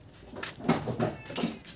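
A cat meows several times at moderate distance in a home kitchen setting near food, the cries rising and falling in a rough rhythm over a faint background hum, with no talking.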